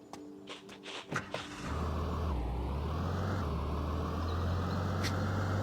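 A car engine in the zombie-survival game Taora: Survival starts after a few knocks and clunks, then settles into a steady, close, droning hum with a slight rise in pitch as it pulls away.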